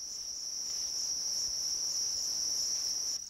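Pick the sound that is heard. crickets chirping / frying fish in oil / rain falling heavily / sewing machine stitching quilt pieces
crickets chirping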